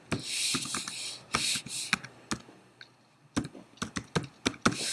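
Fingers type on a computer keyboard nearby: irregular bursts of sharp key clicks, some in quick runs and others spaced apart, with a short pause in the middle.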